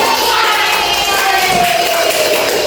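A fifth-grade Islamic religious education class claps for a correct answer, giving a loud, steady wash of many small hands with crowd noise mixed in.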